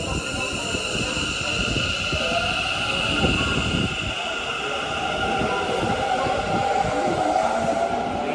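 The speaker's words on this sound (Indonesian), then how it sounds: "ini kita lagi nunggu keretanya" A train pulls into a station near Nara Park in Japan, a loud, steady rumble of rolling cars with a long high squeal of wheels and brakes running throughout.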